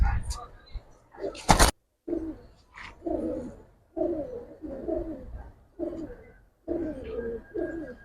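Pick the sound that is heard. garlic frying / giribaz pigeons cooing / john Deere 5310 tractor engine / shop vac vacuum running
giribaz pigeons cooing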